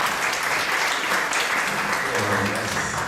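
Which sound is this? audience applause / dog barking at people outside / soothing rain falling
audience applause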